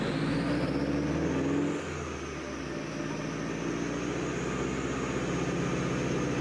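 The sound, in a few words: hatchback car exhaust revving, cat-back exhaust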